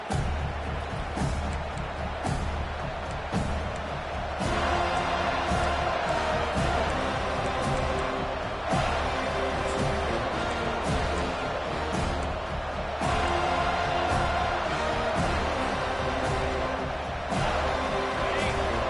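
Steady stadium crowd roar from a college football video game, LSU at Florida State, swelling and settling in broad waves throughout, with a play-by-play commentator talking over it.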